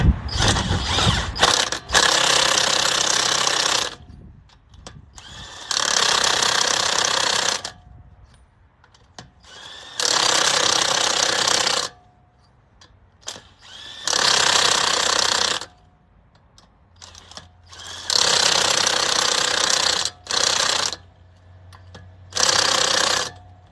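A pneumatic impact wrench fitted with a torque stick drives lug nuts on a Chrysler 300 at the roadside, firing in six loud, rattling bursts of a few seconds each, separated by short pauses.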